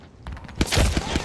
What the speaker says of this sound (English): Here comes the old knuckle cluster.